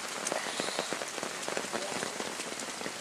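Rain patters steadily on a canoe and the surfaces around a house, a dense even hiss of drops with scattered sharper taps, moderately quiet and continuous.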